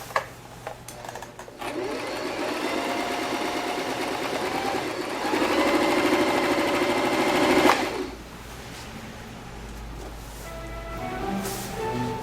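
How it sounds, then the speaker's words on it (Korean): A Singer 3229 sewing machine runs steadily on its own without fabric, a fast mechanical whirr that swells slightly before cutting off, leaving a quieter hum. "그 뒤 전원을 켜고 공회전을 시켜주시면 되겠습니다."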